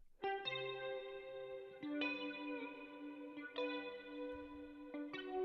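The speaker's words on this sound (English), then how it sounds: "And then I decided to add in this lead guitar." An effects-laden electric lead guitar plays a sparse melody of sustained notes, phrases recurring every couple of seconds, fairly quiet and alone.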